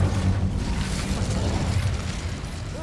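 An Incendio fire spell cast in Hogwarts Legacy on PS5 bursts as a loud, sustained whooshing roar of flame with a deep rumbling body, filling the whole moment without voices.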